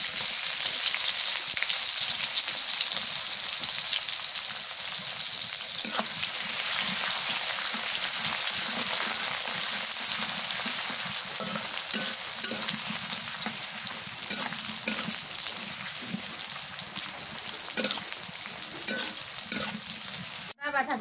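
Chopped onion frying in oil with green cardamom, cloves and cinnamon gives a loud, continuous sizzle that eases slightly over time, with occasional soft stirring clicks and no talking.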